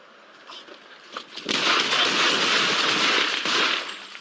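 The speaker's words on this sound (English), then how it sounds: "Shots fired." Gunfire during a police shooting in Lodi, a rapid, dense burst of shots that runs for about three seconds, loud and harsh, after a few scattered knocks.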